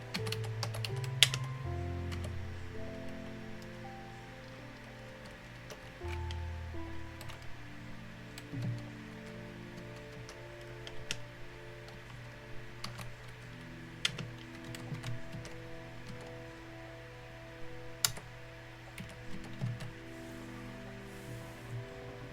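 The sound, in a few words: typing on a computer keyboard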